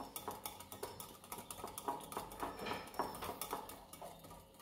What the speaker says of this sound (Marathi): ते आपण एकसारखं मिक्स करून घ्यायचं. ते छान फेटून घ्यायचं.